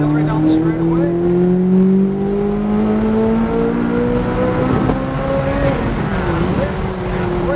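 A supercar accelerates hard down a race track straightaway, its engine tone climbing steadily and loud throughout, with a driving coach talking over the roar.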